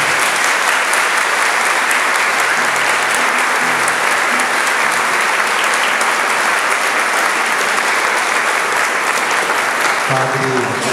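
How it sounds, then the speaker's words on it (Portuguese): Loud, sustained applause fills a hall as a festival crowd claps for its volunteers, a dense steady roar of many hands with a voice starting to speak at the very end. "uma salva de palmas para eles"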